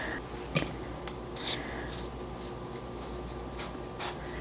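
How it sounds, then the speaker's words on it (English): A vegetable peeler is drawn over a mango's skin, peeling it like a potato, producing a few soft, close scraping strokes at irregular intervals over a quiet background. "So I like to take a vegetable peeler and just simply peel it like you would a potato."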